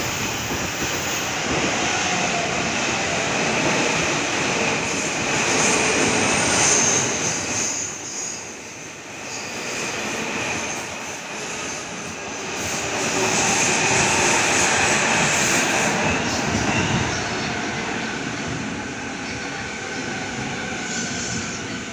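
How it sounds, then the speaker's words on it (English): Chiba service train at platform 1 of a station, a sustained rumbling roar of the train rising and falling as it arrives and pulls away, loud and continuous without speech. "Chiba service departing platform 1."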